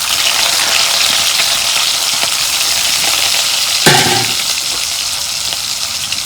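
Onion and green chili hitting hot oil in a pan for a cabbage dish, a dense steady hiss of frying with one brief sharper crackle partway through, no voices.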